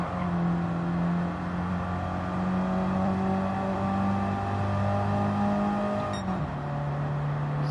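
A race car engine in the Gran Turismo 7 video game holds a strained, steady drone while climbing an uphill section, then briefly dips and shifts to a lower pitch near the end, loud and continuous with no talk.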